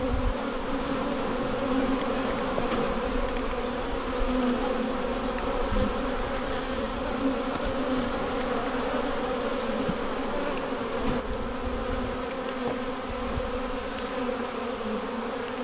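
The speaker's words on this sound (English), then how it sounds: "Look at the bees just gorging on that honey that we cut open." Honey bees swarm over honeycomb cut open from a hive, a steady dense buzzing hum that holds close and unbroken throughout, with no voices.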